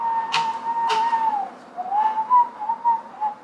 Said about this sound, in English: Showing off your whistling.